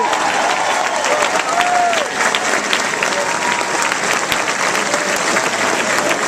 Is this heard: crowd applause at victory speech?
yes